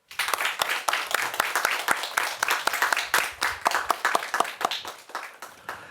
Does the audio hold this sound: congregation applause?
yes